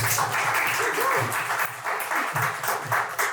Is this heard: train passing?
no